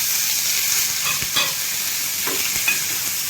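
Turmeric and a pinch of asafoetida sizzling in hot oil with garlic for a dal tempering, a steady bright hiss with soft stirring scrapes, close and continuous, no talk.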